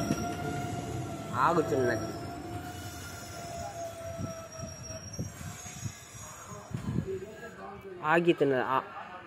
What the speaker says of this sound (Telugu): జదలాపూర్ రైల్వే స్టేషన్లో ఆగుతున్నది.